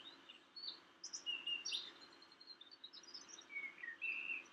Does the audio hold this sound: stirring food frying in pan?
no